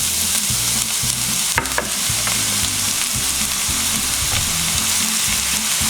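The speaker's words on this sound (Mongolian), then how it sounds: "Тосоо халангуутал нь сонгоноо нэмнэ." Onions go into heated oil for a spicy carrot salad and fry loudly and close, a dense, unbroken sizzling hiss with a few brief crackles and a low tonal hum beneath.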